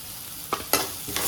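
Potato bonda filling is sautéed in a pan, a soft continuous sizzle with two or three short scraping stirs.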